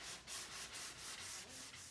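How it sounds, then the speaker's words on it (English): Sandpaper rubs a wooden banister to rough its surface, with steady back-and-forth strokes of about four per second, soft and close, with no voices. "now I'm just giving it a sanding to rough it up so that I can do the paint on top"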